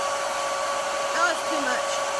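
A hair dryer blows with a steady, loud whooshing hum, continuous and close, with faint brief background sounds over it.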